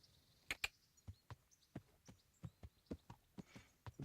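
Horse hooves clip-clopping in the video game Kingdom Come: Deliverance, a steady run of about a dozen distinct, fairly quiet hoof strikes in an even walking rhythm, with no talk over them.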